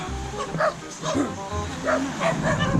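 Several dogs bark and yip in quick repeated bursts, fairly close, at a house on Cresta de Gallo island, with people talking in the background.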